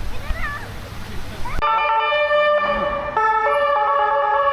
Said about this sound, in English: Thank you, European Siren.